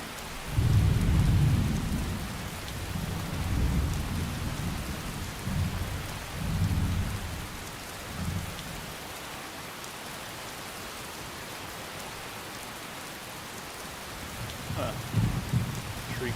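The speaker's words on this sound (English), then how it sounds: "back into the torrential downpour" Heavy rain pours steadily in the game Fallout London while deep rumbles of thunder roll through, strongest early on and fading into a constant downpour.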